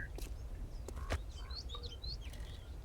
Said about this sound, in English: I hear a dog and a freaking bird.